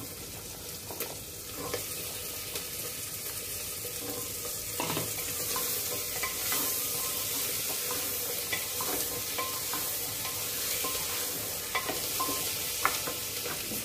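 Vegetables for simbal ki sabzi hit hot oil and are stirred, producing a dense, steady sizzle with intermittent scraping of a spoon in the pan, close and continuous throughout without talk.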